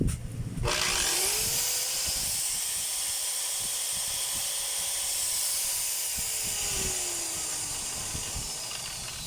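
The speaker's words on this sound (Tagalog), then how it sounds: "maingay din po yung andar ng gear" A DWP849X power tool with a noisy gear spins up sharply, then runs loud and steady with a high whine, a rough grinding hum and a slight shift in pitch partway through.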